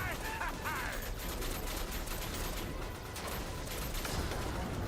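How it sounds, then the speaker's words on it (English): Heavy booming cannon fire and explosions from a Star Fox remake video game roll over one another in a dense, loud barrage, with a brief electronic warble at the start. "Unleash the cannon!"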